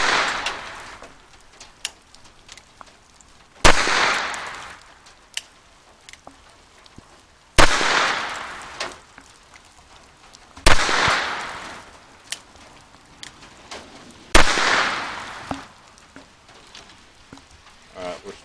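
GSG 1911 pistol having light strike problems fires four loud, sharp shots spaced several seconds apart, each with a decaying echo, and quiet clicks and handling noises fill the gaps between.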